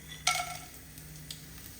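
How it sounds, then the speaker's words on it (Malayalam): Whole clove, cinnamon, cardamom and fennel hit hot ghee and oil for a chickpea biryani, giving one brief, bright sizzle burst that quickly fades into a quiet background with a faint later crackle. "നെയ്യും ചൂടായി വരുമ്പോൾ നമുക്ക് ഒരു ഗ്രാമ്പു, പിന്നെ കുറച്ച് കറുവപ്പട്ട, പിന്നെ ഏലക്ക, പെരുംജീരകം ഇതെല്ലാം ഇട്ട് കൊടുക്കുക"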